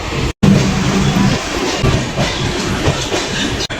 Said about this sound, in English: After so many days, I got a chance to see this freight train.